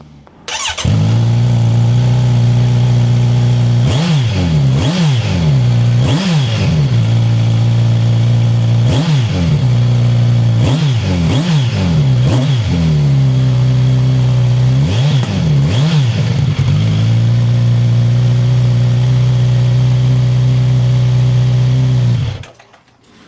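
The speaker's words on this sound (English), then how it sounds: "So I'll start it up now so you can see what it sounds like" Kawasaki Z900RS motorcycle with stock exhaust and catalytic converter starts, idles steadily and is blipped through a series of sharp revs that rise and fall, loud and close, then shuts off, with no talking.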